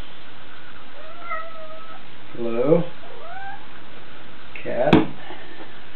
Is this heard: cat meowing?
yes